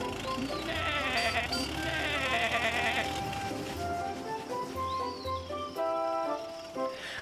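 Repeated sheep bleats, wavering and nasal, sounding close, with a soft musical backing underneath.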